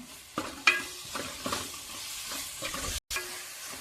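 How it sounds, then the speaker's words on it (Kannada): Ginger garlic paste sizzles in a pan while cooking a Chikmagalur-style traditional chicken fry, with a spoon stirring and scraping through a steady frying hiss. A brief silent gap falls near the end. "ನಂತರ ಇದಕ್ಕೆ 2 ಸ್ಪೂನು ಶುಂಠಿ ಬೆಳ್ಳುಳ್ಳಿ ಪೇಸ್ಟ್ ಹಾಕ್ತಿದ್ದೇನೆ."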